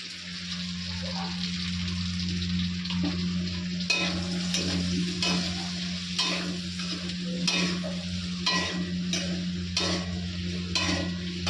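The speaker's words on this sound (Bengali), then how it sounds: "দেখো এখানে প্রায় ভাজা ভাজা হয়ে গেছে তো আমি এখন মশলাটা দিয়ে দিই" Spices added to a pan of nearly fried vegetables sizzle loudly and steadily, while a spatula scrapes and clinks against the pan in quick repeated strokes, close and clear, with no voices.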